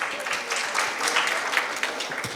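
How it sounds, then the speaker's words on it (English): A conference audience at a Pakistan Society of Anaesthesiologists annual scientific session claps in a steady, moderately loud round of applause, many hands together without pause. "But let's have a round of applause for them as well."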